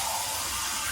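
Water poured steadily into rice for mushroom biryani, a brief, soft, continuous splashing stream with no voices.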